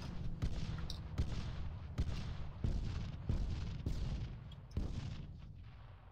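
Anti-submarine bombs from the Swedish Forces Pack game mod exploding one after another, with a series of deep booming detonations at irregular intervals, each followed by a rumbling decay, loud and continuous with no talking.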